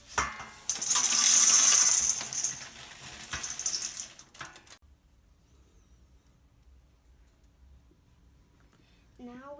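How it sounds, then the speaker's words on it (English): Dried corn kernels are dumped into a colander, a loud close rush of hard kernels pattering and rattling for about four seconds before stopping, followed by near silence. "now we're gonna dump this corn into the colander."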